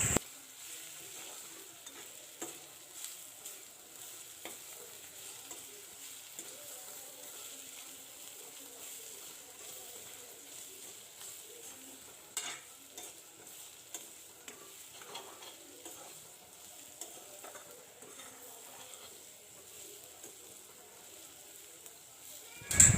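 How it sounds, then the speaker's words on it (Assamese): Masala spices, including chicken and meat masala, fry and get stirred in a pan for an Assamese duck curry. A steady low sizzle runs throughout, with scraping and stirring clicks that stay faint and close, and no talk. "এনেকৈ অলপ সময় মই মছলাখিনি ভাজি থাকিম।"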